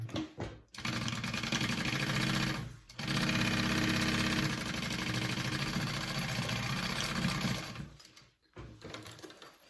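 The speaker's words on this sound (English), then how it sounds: "So when I do it, I flip my lining up and then sew my sides together." A sewing machine stitches the sides of a bucket bag with the lining flipped up, running in long steady bursts with brief pauses between them, close and loud.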